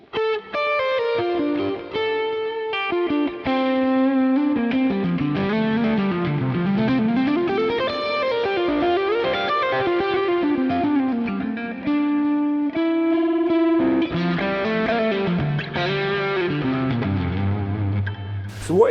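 Sterling Kaizen electric guitar on the middle pickup position, played through effects with hot distortion, chorus and reverb: a continuous melodic lead-and-chord passage, loud and close, with bends and sustained notes and no talking.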